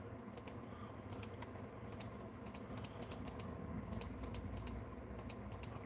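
Computer keyboard typing and clicking while someone clicks emojis in a chat, with sharp, irregular clusters of key clicks spread across the clip over a steady low background hum.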